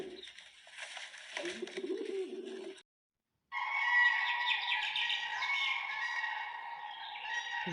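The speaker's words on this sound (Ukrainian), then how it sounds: "голуби гулять." Birds call and chatter in two bursts separated by a short pause, with low cooing-like tones under the first part; a fairly steady, close outdoor chorus.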